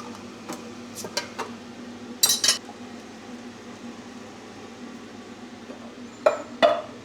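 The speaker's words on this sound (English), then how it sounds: "we're gonna stir it up" Food being stirred in a pot, heard as a few sharp metallic scrapes and clinks of a spoon against the pot, separated by quiet stretches.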